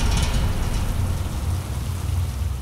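Steady rain pours down as a drama sound effect, a dense even hiss with a heavy low rumble underneath, continuous and loud throughout with no voices.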